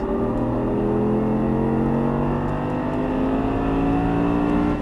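An Audi R8 engine accelerating hard on a race track, a loud, steady roar rising in pitch as the throttle is squeezed, heard close and continuously without speech.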